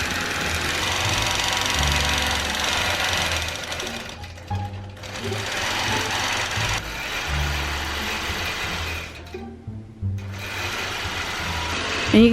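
A longarm quilting machine stitches a quilt with a steady, loud mechanical hum and rapid needle rhythm, pausing briefly twice before running on, with no speech over it.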